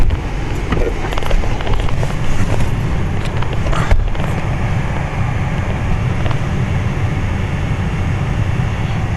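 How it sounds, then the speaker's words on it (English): Brand-new HVAC blower motor running inside a 2010 Toyota Tacoma cab, a steady, loud broadband rush of air with a few faint clicks and knocks early on. "Brand new blower motor."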